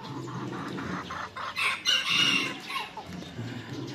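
Backyard hens cluck in short bursts, with one louder squawk rising from the group, close and clear over quiet background.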